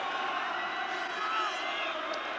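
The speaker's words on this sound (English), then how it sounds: "A noisy crowd on a special night in South Wales." A noisy football crowd fills a stadium on a night match in South Wales, Swansea at home, giving a steady, dense roar of many voices with scattered shouts throughout, loud and continuous with no lulls.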